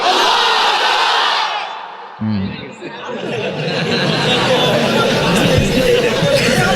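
A large crowd shouts a takbir chant in unison, a loud massed roar of voices that dips for a brief moment and then surges back up just as strongly.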